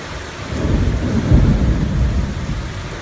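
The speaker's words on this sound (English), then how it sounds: "This is some rain, dude." Heavy rain with thunder at a mining camp, a low continuous rumbling roar that swells in the middle, loud and close, with no voices.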